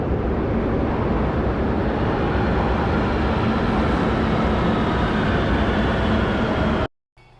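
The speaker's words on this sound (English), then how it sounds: "I hear a train coming." A metro train approaches a station in Barcelona: a loud, steady roar of rolling wheels and motors fills the space for about seven seconds, then cuts off abruptly.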